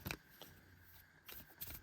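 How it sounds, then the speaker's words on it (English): A deck of cards being shuffled while a sealed deck is built, with a few quick riffling bursts separated by short pauses, soft and close. "let's shuffle this up and have a look at"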